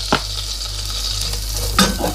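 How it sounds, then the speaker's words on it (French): Shallots sizzle in butter in a saucepan, a steady close frying hiss with a couple of brief utensil scrapes as they are stirred, and no talking. "je mets mes échalotes dans le beurre"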